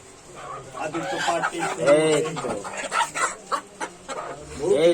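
Chickens cluck repeatedly close by, with bursts of hen calls and a duck mixed in, while people talk over them; one duck and two hens.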